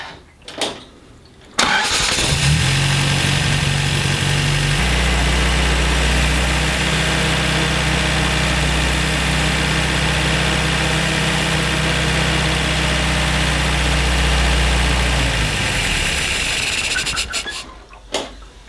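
A car engine fitted with SU carburettors starts with a short crank, then settles into a steady, close idle for about fourteen seconds before shutting off, with no talk over it.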